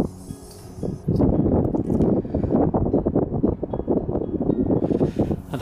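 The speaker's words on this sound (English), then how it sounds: "I don't know if you can really hear me from the wind, because it is ever so windy" Strong wind buffets the microphone in loud, rough gusts at an abandoned dockside building in Hull, roaring almost continuously after a quieter opening moment.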